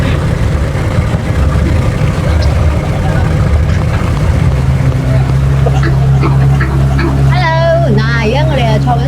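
A motorboat engine drones loud and steady from close on board, a heavy low rumble with water rushing past the hull, while voices talk over it toward the end.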